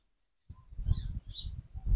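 Soft high chirps and tweets from a bird, close by, over a low rumbling background after a brief silence.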